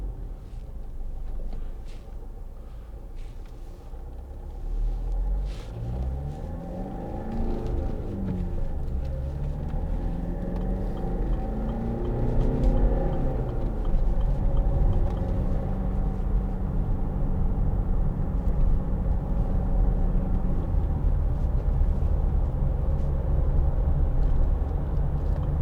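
A 2010 Land Rover Freelander 2 TD4 diesel builds speed on the road, its engine note rising through the gears under steady road rumble and a low cabin drone that grows louder over time.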